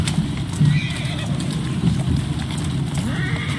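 A horse whinnies in the video game Assassin's Creed Syndicate amid hoof clip-clops and busy background noise, with a voice talking over it.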